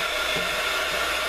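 A hair dryer blows on a mixed media art page, giving a steady, fairly quiet whooshing hiss of air that holds constant from start to end.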